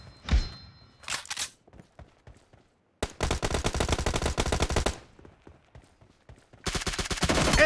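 Bursts of automatic gunfire from a PUBG Mobile Domination mode match: a short burst near the start, a sustained two-second volley in the middle and another long rapid burst at the end, loud and close with scattered thuds between.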